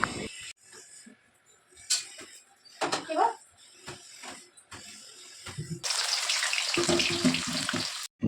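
Sliced onions fry for biryani, sizzling and crackling loudly in a large amount of hot oil, building into a steady hiss, after sporadic clicks and clatter of utensils.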